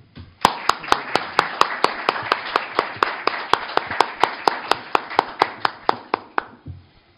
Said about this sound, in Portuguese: nosso querido Hildebrando Pontes, para quem eu peço aplausos de boas-vindas